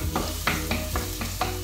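Close, steady sizzling of shallots and garlic frying in a hot pan, with soft periodic scrapes of stirring.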